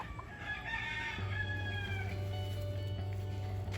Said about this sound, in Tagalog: Ayan pa ang manok. Andun pa ang manok.